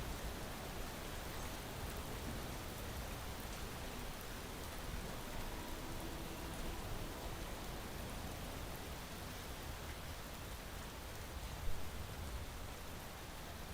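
Steady rain from the Space Engineers video game falls as a dense, continuous hiss, evenly loud throughout with no voices, a constant wash of drops.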